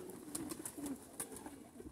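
Pigeons coo softly on a rooftop, a few low murmuring calls rising and falling at a distance, with faint higher chirps over a quiet outdoor background.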